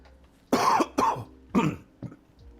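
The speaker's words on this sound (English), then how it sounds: "I apologize for coughing" Four harsh coughs in a quick, uneven series, close and loud, the last one weaker, with quiet pauses between.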